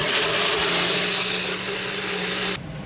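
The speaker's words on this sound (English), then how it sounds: "let's get to blending" A kitchen blender whirs steadily as it purees carnivore mayo ingredients with Italian seasoning, a loud, dense motor roar close by that holds for over two seconds and then drops in tone near the end.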